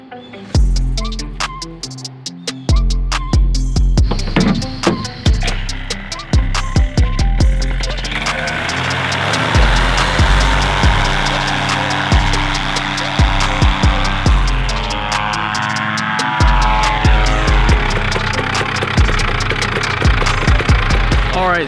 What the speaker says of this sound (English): Jeff is warming up his Trike-mobile with the Polini 250